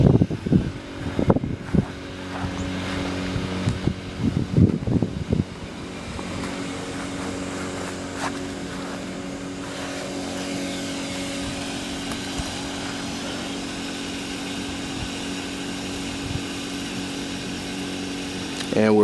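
A Kipor IG1000P inverter generator runs steadily at full output, giving a constant low hum with harmonic tones that holds even throughout, after a few louder knocks and handling bumps near the start.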